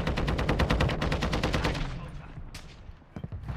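Rapid gunfire from a video game, a burst of repeated shots in quick, even succession for under two seconds, then fading, with a couple of sharper sniper-like cracks near the end.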